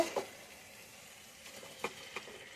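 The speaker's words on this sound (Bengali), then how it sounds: "এই যে আলুগুলো ঢেলে দিলাম, আলুগুলো ঢেলে ভালো করে মশলার সঙ্গে মিশাই দাও আলুগুলো" Soft frying sizzle with a few scraping, clattering taps as potatoes are tipped into the spices and stirred in the pan, fairly quiet and close.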